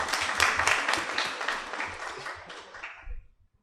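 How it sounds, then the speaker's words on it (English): An audience clapping at a formal debate session, a short burst of dense applause that fades out within a few seconds. "let's clap for him"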